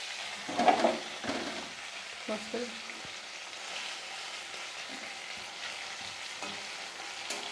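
Steady sizzling and crackling of amudi fish frying in a kadai, with a few louder clatters near the start, then a softer continuous fry.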